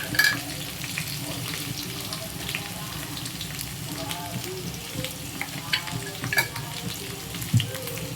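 Okra fry with salt and turmeric is stirred in a pan, a continuous close sizzle broken by scraping spatula strokes and soft clinks of the utensil against the pan, with no voice.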